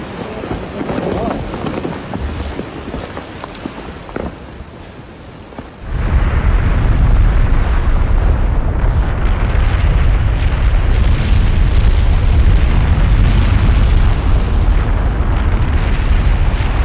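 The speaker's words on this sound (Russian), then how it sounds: "К утру вторника, 4 августа, вулкан непрерывно взрывался уже более 23 часов подряд." Fuego volcano in Guatemala erupts with a continuous roaring rumble, quieter and more broken at first, then a sudden loud, dense, sustained blast of noise that carries on without a break.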